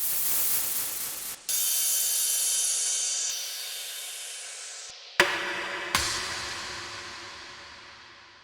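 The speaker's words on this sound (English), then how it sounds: "There are also effects in this pack like down filters and impacts and up filters," Electronic sample-pack effects for tropical and chill house: a bright hissing noise sweep that filters downward and fades, followed by a couple of punchy impact hits and a rising filtered noise swell, heard alone with no voice.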